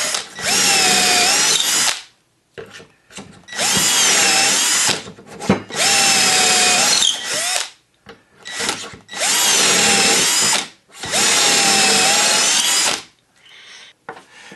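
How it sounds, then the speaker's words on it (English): A power drill whines in four long bursts, biting into wood with pauses between each hole while using a doweling jig, loud and close. "So we're just going to drill 3 holes."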